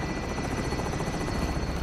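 Helicopter in Call of Duty Warzone flying off with the deposit aboard, a loud steady rotor chop with dense rhythmic pulsing throughout, no other sounds over it.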